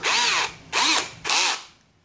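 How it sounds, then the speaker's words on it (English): A 13mm cordless brushless hammer drill with a 10 mm masonry bit hammering into a concrete floor, three loud, harsh bursts of about half a second each, separated by short pauses. "let's put that on hammer function and let's try to drill through this a concrete floor"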